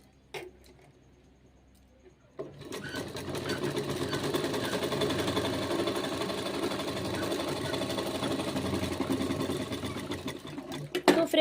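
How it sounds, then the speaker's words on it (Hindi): A sewing machine stitches the sleeve of a suit, starting after a short quiet spell and then running in a steady, close, whirring chatter for several seconds before stopping with a few clicks. "इस तरीके से जो है आपको ऐसे सिलाई लगा लेना है।"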